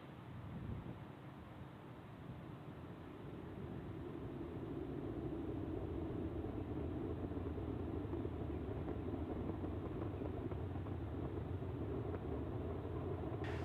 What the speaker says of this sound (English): Falcon 9 has successfully lifted off. from Launch Complex 39A at the Kennedy Space Center carrying the TD7 satellite